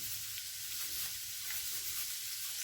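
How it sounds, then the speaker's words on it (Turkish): Salted onions sautéing in a pan, a steady close hiss of sizzling with faint stirring, continuous and even throughout. "Bildiğiniz gibi tuzlu soğanlar daha çabuk ölüyor. Soteleniyor."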